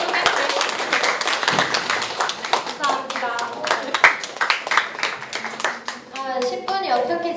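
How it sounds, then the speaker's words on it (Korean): An audience claps after a short lightning talk at a developer event, a loose patter of hands that swells and thins over several seconds while people speak over it. "박수 한 번 더 부탁드립니다."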